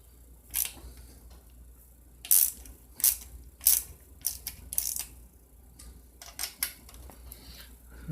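A ratchet tightening bolts on a 4R70W automatic transmission during assembly, irregular short bursts of clicking, some quick and clustered, close and fairly faint with quiet pauses between.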